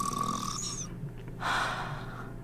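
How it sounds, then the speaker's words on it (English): A character snores in the video game Nikke during the Old Tales event, a steady rasping snore with a breathy, wheezing tone that holds even and fairly loud for the whole stretch. "I think Ave's snoring is goddess level. We can hear it all the way from over here."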